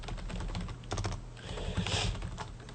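Steady typing on a computer keyboard, a rapid run of close clicking keystrokes over a constant background hum, with no voices.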